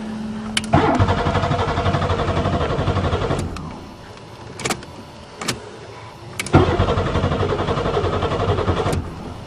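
A Buick Regal that has sat for a few years cranks and catches near by, runs rough and fades, gives a couple of brief bursts, then fires up again into a steady, loud idle.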